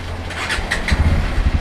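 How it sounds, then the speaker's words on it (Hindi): A 2023 Bajaj Pulsar NS160 motorcycle (BS-7 update) starts up with a brief, loud starter whir, then settles into a low, throbbing engine rumble close by. "मैं आपको दिखा दे रहा हूँ एक बार चालू करके"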